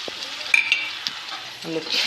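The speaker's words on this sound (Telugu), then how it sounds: "టమాటో కూడా బాగా కలిపి వేగనివ్వాల" Onion and tomato frying in a pan while being stirred, a steady sizzle with occasional scraping clicks and soft stirring knocks, close and continuous with no talk.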